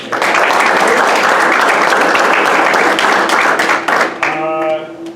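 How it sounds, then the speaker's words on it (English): Loud, dense audience applause for families at a military class graduation, sustained for several seconds before cutting off into a brief tonal sound and quieter room noise. "let's give them a round of applause"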